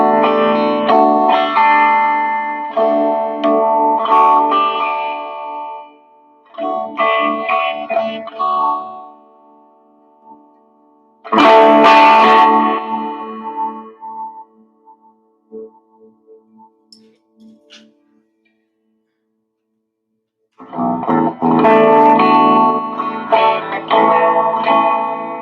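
Electric guitar played through a Greenback amp effects unit on the clean setting, bursts of chords and ringing notes with a lingering decay, several phrases separated by a short pause and a near-silent gap.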